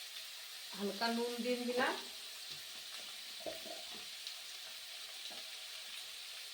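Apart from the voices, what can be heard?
lightly frying cauliflower kofta pieces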